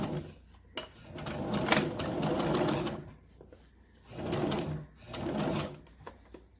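A sewing machine stitching a French seam on a children's ruffle dress, running in several bursts of steady mechanical whirring separated by short pauses, close and fairly loud.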